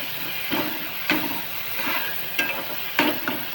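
Chopped onion and tomato fry in a pan with a soft, continuous sizzle, broken by several sharp scrapes and knocks of a stirring spoon at irregular intervals; no one talks.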